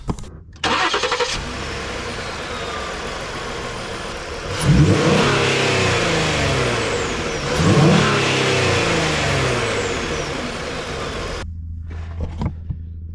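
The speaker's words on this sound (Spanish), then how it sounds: "Ahora voy a encender el vehículo para que escuchen cómo se oye el motor sin el filtro." A car engine with its air filter removed starts up and idles, then revs twice in rising, throaty surges before settling back to a steady run, loud and close.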